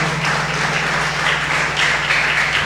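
A church congregation applauds during a service, a dense, steady wash of many hands clapping at close range that holds evenly at loud volume throughout, over a faint background hum.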